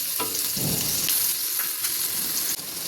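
Ground ginger sizzles in hot oil with spices for chicken biryani, a steady close frying hiss with a few faint stirring scrapes.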